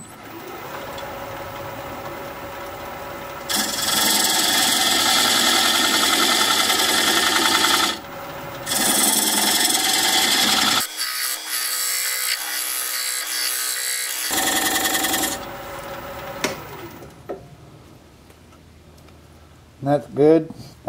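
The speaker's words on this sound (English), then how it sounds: "Now I'm going to use this diamond point tool to square up the sides of the tenon." A diamond point tool squares the sides of a tenon on an apple burl turning on a wood lathe, making loud, steady scraping and whirring cuts in long stretches, broken by brief pauses.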